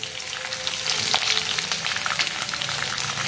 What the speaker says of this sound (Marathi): तोही थोडासा परतून घ्यायचा लसूण परतलाय आहे